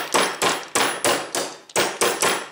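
Sharp metallic taps of a tool driving a small pin out of a Beretta 92 pistol, seven or eight crisp strikes at an even, steady rhythm, loud and close.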